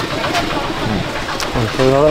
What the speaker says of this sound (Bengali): অনেক পায়রাই আছে।